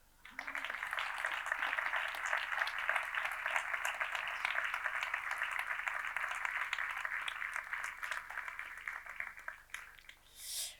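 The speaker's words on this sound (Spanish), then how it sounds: "I que els aplaudiu de nou." An audience applauds at an awards ceremony for the Pasqual Maragall Legacy Prize 2024. The steady, fairly distant clapping lasts about ten seconds, then fades out with no talking over it.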